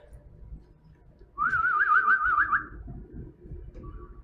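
A person whistles a warbling, bird-like trill that imitates a bird, a bright wavering tone lasting about a second and a half over low room rumble.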